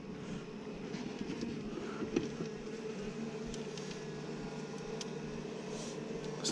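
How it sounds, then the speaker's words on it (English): Bees inside a beehive during hive combining give off a quiet, continuous low buzzing drone with faint scattered clicks and taps, heard close up at low volume. "Still some bees in here,"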